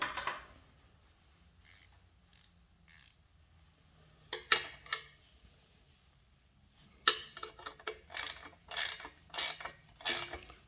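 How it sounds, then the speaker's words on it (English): A ratchet wrench turns a socket on a vintage cruiser bike build, giving bursts of sharp clicking ratchet sweeps with short pauses between them, close and fairly clear against quiet room tone. "I love these wrenches."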